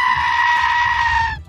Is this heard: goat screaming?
yes